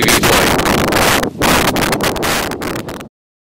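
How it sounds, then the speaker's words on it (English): Strong wind buffets the microphone on top of a mountain above Bethel on a blustery day, a loud roaring rush with brief gusty dropouts, ending abruptly in silence after about three seconds. "FPV over Bethel, top of the mountain on a windy day."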